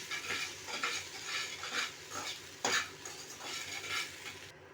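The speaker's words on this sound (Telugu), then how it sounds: "అలా ఫ్రై చేసుకోవాలి మొత్తం అంతా కలిసేటట్టు అలాగా కలపాలి" Poha upma frying in a pan gives a close, steady sizzle under repeated scraping stir strokes and light metallic clatter from the spoon, with one sharper knock midway and no talking.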